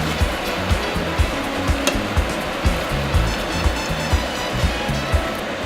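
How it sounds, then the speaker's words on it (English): Potato steaming water is poured into a cooking pot with the potatoes, making a continuous rushing, splashing pour with soft repeated bumps underneath. It is close and fairly loud, and no one speaks. "add some of the water that you used to steam the potatoes"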